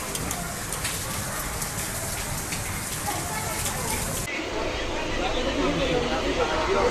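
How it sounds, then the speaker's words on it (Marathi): Heavy monsoon rain falls in a dense, steady hiss and patter, loud and close, with voices faintly audible beneath it and a shift in tone partway through. "किती मोठा पाऊस आला"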